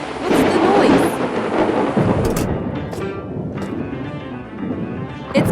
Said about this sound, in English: Thunder and lightning ahead!